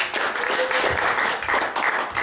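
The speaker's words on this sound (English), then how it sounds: "they give this lady a round of applause" A live comedy mind-reading show audience applauds a woman volunteer coming up on stage, dense, steady clapping filling the room for a couple of seconds with a faint voice underneath.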